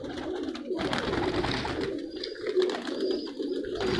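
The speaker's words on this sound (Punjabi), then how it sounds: "ਇੱਕ ਤੋਂ ਇੱਕ ਪਿਆ ਜੀ ਕਬੂਤਰ" Teddy pigeons at a pigeon sale cooing continuously, soft low murmuring coos layered and steady throughout, fairly close with no talk.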